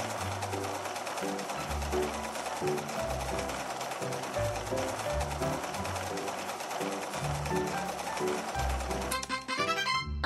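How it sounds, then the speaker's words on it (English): Video game sewing machine in a dress-up sewing game, stitching in a steady mechanical chatter with rhythmic low thumps throughout, ending with a short rapid rattle. "Press the pedal to sew."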